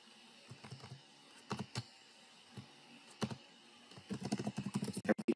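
Keys on a computer keyboard are tapped in scattered light clicks, then pick up into a quick, dense run of typing near the end, with no voices.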